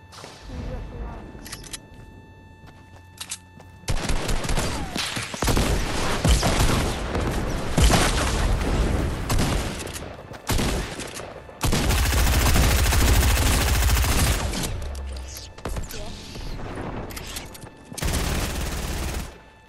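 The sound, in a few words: sniper rifle gunfire in a video game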